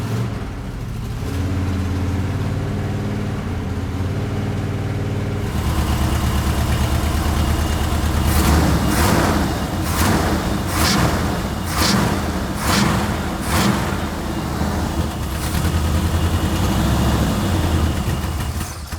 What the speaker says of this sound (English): It's gonna sound rough because that header's all rotted out